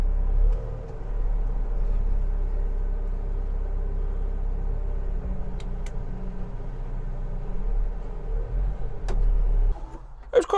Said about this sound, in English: It was quite a smooth operating machine.